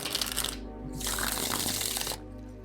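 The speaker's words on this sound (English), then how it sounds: "So let's shuffle these cards." A deck of cards is shuffled close up in two crisp riffling bursts, each a rapid flutter of cards ending in a soft settle, with no talk.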